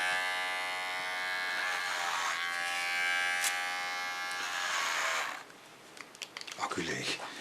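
A battery-powered electric hair clipper buzzes steadily through hair for about five seconds, then cuts out abruptly as the battery dies, leaving scattered soft clicks and handling noises.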